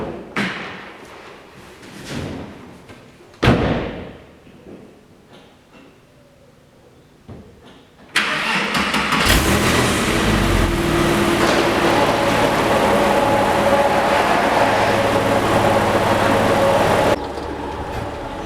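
A Porsche 997 sits quiet with only a few thuds and knocks, then its engine catches abruptly and settles into a loud, steady idle that continues close by until the end.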